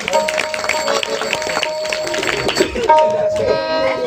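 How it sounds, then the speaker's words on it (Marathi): Audience applause at a live Marathi bharud folk performance, a dense steady clatter of clapping that runs the whole time beneath sustained harmonium-like music and grows a little louder near the end. "टाळ्या वाजवा जोरदार"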